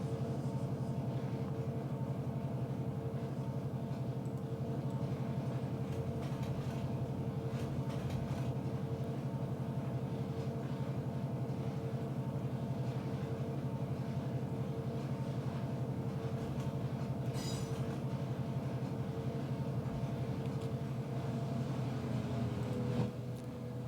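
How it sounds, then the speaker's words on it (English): A train eases back onto the NP main line, a steady low rumble with a constant engine drone and faint wheel and rail noise, near and unbroken, with a brief squeal near the end. "Now we bring this train back"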